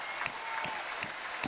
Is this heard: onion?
no